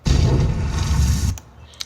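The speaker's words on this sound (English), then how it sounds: "The debris shake effect is more of like the sizzling sound effect of the ground itself." A deep, heavy debris-shake rumble of shaking ground with a crackling, sizzling texture rolls continuously for over a second, then cuts off abruptly, leaving a faint tail and a brief tick.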